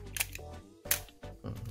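A Nikon FE2 film camera fires its shutter a few times during a function test, each a sharp mechanical click-clack close to the microphone in a quiet room.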